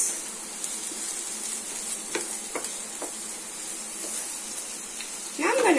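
Pasta masala with garlic and ginger frying in a pan, a soft constant sizzle broken by a few sharp scrapes and taps of a stirring spoon, ending in a louder rush of sizzling.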